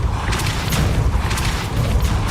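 The Depulso spell goes off in Hogwarts Legacy, a loud rumbling boom with a burst of crackling impacts over a low, heavy roar.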